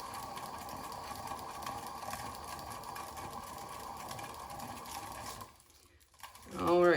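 A motorized spinner turns a chameleon-pigment blown-flower fluid acrylic paint pour, giving a steady mechanical whir for several seconds before cutting out, followed by a short rustling noise.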